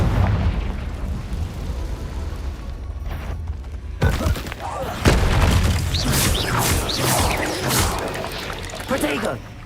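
A Confringo fire spell explodes in Hogwarts Legacy. Two sharp blasts land about a second apart and roll into a crackling, burning rumble, layered over dense in-game combat effects.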